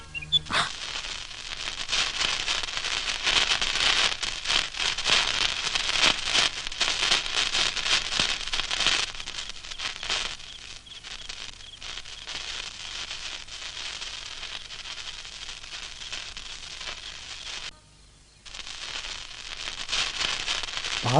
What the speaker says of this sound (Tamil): பார்த்து பட்டாசு வெடிங்கம்மா, மேலே பட்டுற போகுது.